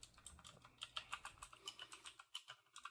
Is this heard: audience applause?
no